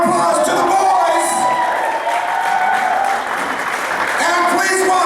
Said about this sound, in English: Give them a nice round of applause to the boys!